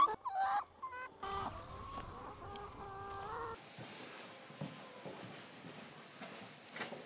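Laying hens cluck and murmur in a busy chorus early in the morning on an organic egg farm, close at first, then settling into a softer, noisy barn ambience.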